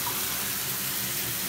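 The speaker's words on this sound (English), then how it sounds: "here's another normal shower head, sitting at about 75 decibels" Steady broadband hiss of water spraying from a standard shower head at about 75 decibels, a constant even rush heard alone from start to finish.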